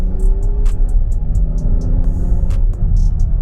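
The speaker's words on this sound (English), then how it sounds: "you can definitely hear that air sucking in there now" A BMW X5 35i engine in Sport Plus mode gives a loud, close low rumble with a steady intake tone and a series of short hissy air-rush bursts spaced through it, with no voices.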